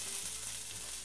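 Boiled cactus and carrots hitting a hot, buttered frying pan give a steady, close hiss of sizzling and frying over a brief moment, with no voices.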